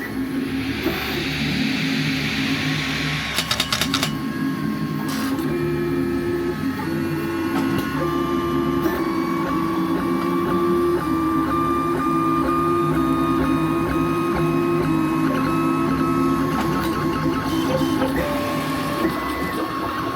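Creality 3D printer printing a plate of small models: steady mechanical whirring of stepper motors with shifting tonal whines and rhythmic movement, continuous and close with no talk.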